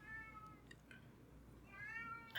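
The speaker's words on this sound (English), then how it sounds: "Percy is meowing" Percy the cat meows twice to be let in, two drawn-out harmonic cries separated by a short pause, fairly faint and indoors-distant, with a soft thump near the end and no talk.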